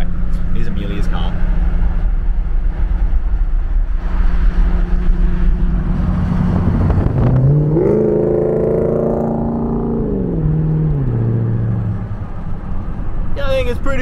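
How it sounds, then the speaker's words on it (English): A parked car's engine idles with a low steady rumble, then revs up, holds a higher pitch for a couple of seconds and drops back down, while a person talks nearby. "Anyway, here's Amelia's car."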